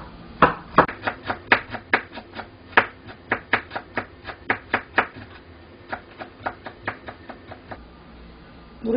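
A knife chops thin slices of ginger on a cutting board in a steady run of crisp, close taps, about three per second, pausing briefly midway before continuing.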